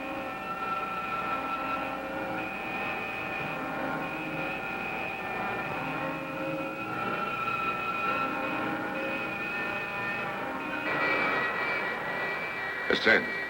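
A spacecraft engine in a video game produces steady, loud thrust with a droning hum and high whine lasting throughout, swelling slightly near the end and ending with a few sharp clicks.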